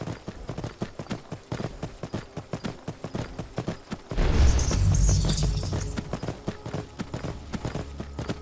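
Horse hooves clip-clop in steady, repeated beats in Skyrim, the rhythm interrupted midway by a loud, dense burst of rumbling action noise before the hoofbeats resume.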